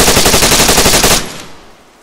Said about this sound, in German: Auf Vollauto, du hast auf 3 Dreifachschuss geschossen.